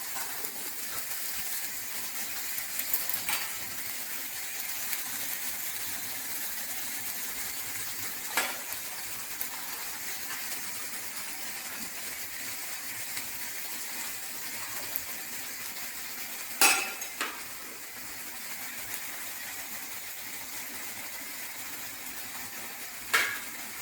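A frying pan holding onion with masala spices and salt gives off a steady low sizzle as it cooks, with occasional faint clinks and scrapes of stirring, all close and quiet.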